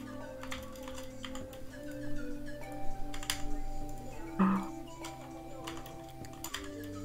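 Steady rapid typing on a computer keyboard, a run of sharp key clicks layered over tonal electronic music from a Geometry Dash session, with occasional louder keystrokes standing out.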